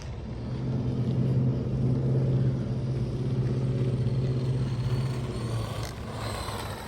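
A restored 1993 Team Losi XX RC car drives past with a smooth, steady motor whir and rumble that swells and eases slightly, fairly close and with no voices.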